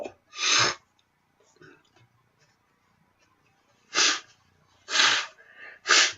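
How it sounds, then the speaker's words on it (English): Someone blows their nose into a tissue in several loud, close, breathy honks: one early, then three in quick succession near the end, with quiet gaps between. "You know why I don't care if I blow my nose?"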